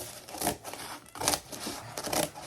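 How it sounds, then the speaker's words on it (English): Scissors cut through cardboard in three slow, separate crunching snips, each a close, rough crackle with brief pauses between, and no talking. "I'm not the greatest with scissors, especially when cutting through something like cardboard"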